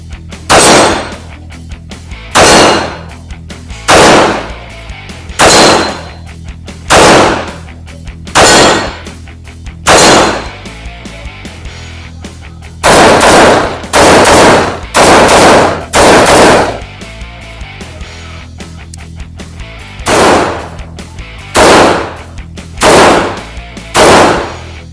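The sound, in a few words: test firing Springfield Armory Operator 1911 .45 pistol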